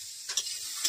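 Chopped onions fry in oil while being stirred, a short hiss of sizzling with two or three brief scraping bursts from the spoon, no voices.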